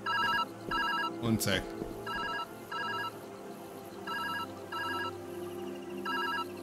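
A ringing phone in the Viewfinder video game sounds in repeated electronic trilling bursts, loud and steady in rhythm, with a brief louder knock and a man's short remark partway through.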